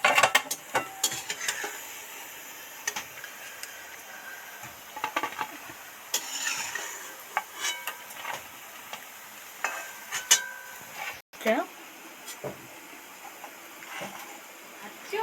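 Banana fritters frying in oil in a pan on a raised flame, with a soft sizzle beneath repeated scraping and clinking strokes of a stirring utensil, some louder than others, and someone talking intermittently.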